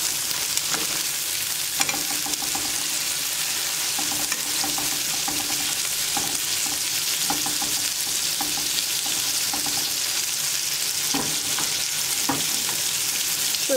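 Tomato slices fry in oil in a pan, giving a steady, close sizzle throughout with occasional scraping and stirring clicks as they are turned and moved.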